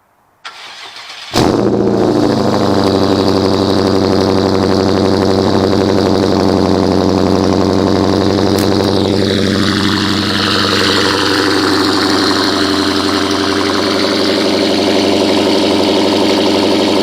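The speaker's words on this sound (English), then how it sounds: "get you on the cold start right here" A JB4-tuned BMW engine cold-starts with a sharp crank and catch, then settles into a loud, steady idle that dips slightly in pitch as it continues, close up with no talk.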